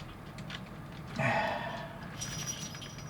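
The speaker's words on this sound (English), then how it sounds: "that's my cat's collar with a bell on it." A brief, faint tinkle of a small bell on a cat's collar, jingling for a moment at low volume against a soft background hiss.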